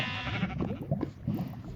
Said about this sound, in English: I pushed that poor cow into the lava.